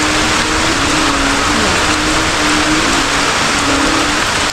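Heavy rain pours down on a farm field in Bulan during a thunderstorm, a dense, loud, unbroken hiss of falling water with a faint low hum underneath.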